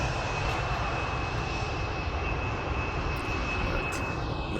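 KLM Embraer E175 jet landing at Amsterdam Schiphol: a steady, loud engine roar with a thin high whine running throughout, heard from outdoors on a sunny day.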